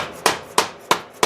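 Four evenly spaced, sharp metallic strikes of a hammer on a punch, driving the spline shaft back in during a wheel bearing and hub replacement on a 1992 Chevrolet K1500, close and ringing briefly after each blow.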